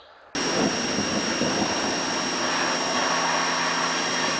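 A pressure washer starts up and runs steadily while cleaning farm equipment, a loud continuous high-pitched whine with a broad hissing spray, sustained without a break after a brief quiet start.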